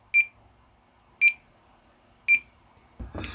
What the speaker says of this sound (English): Down here, we've got a beeper. We've set a switch, a two-position switch, for the beeper to go off.